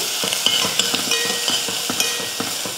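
A spoon stirs spices and turmeric powder through sizzling oil in a pan, with rhythmic scraping strokes over a constant frying crackle, close up and fairly loud.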